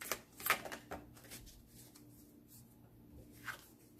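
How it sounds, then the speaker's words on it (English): Soft, close riffling and sliding of a tarot deck during a card reading, with a few brighter flicks near the start and later, quiet over a low room hiss. "I'll shuffle and shuffle and shuffle and no cards will jump"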